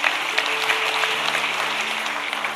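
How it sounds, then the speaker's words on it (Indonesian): A church congregation claps together in steady, sustained applause, moderately loud with a faint tone lingering underneath. "Tepuk tangan buat Tuhan Yesus."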